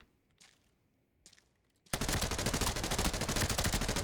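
After a couple of faint thumps, rapid automatic gunfire from the video game Arena Breakout Infinite bursts in and keeps going loud and steady to the end.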